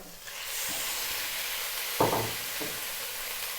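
Pork dropped into a hot pan with sautéed garlic and onion for pork mechado, bursting into a loud steady sizzle that holds strong, with a few clinks of stirring near the middle.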